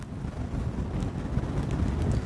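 Strong typhoon Hinnamnor wind buffeting on the south coast at Goheung, a loud, continuous low rumble and gusting roar close to the microphone, with no voices.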